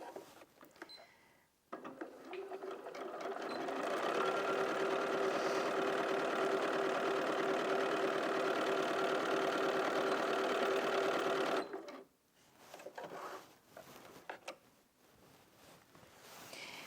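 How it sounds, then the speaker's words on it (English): A Bernina 475 QE sewing machine stitches through two layers of denim with a jeans needle, a steady, loud mechanical whir lasting about ten seconds, with handling noise before and after and no talking. "So I've just popped the jeans needle in, and then I'm just going to sew the two together."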